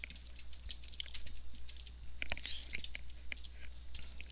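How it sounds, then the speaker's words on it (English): Someone types test text on a computer keyboard, producing quick, irregular clicks and taps close by. The keystrokes sit over a low steady hum, with no voices. "we'll type in some test text"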